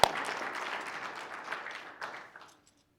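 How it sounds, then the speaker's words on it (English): Applause at a county sheriff's office award ceremony, a dense spread of many hands clapping at moderate level that thins out and stops after about two and a half seconds, leaving silence. "saving a life always gets another round of applause"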